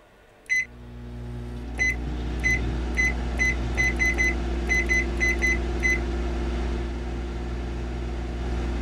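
A microwave oven hums steadily inside the Cooking Simulator video game, its low drone running throughout while a string of short, evenly spaced electronic beeps chirps over it near the start, with no talking.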